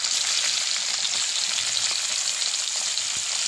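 Fish for a light vegetable fish curry sizzles loudly in hot oil in a pan, a dense, steady crackling hiss that carries on alone without any talk.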